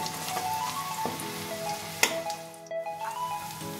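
Grated beetroot frying in mustard oil in a pan, a steady soft sizzle with occasional stirring clicks and scrapes, no talking.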